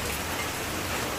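Rain falls steadily in a dense, even hiss of drops on surfaces, continuous and fairly close, with no voices.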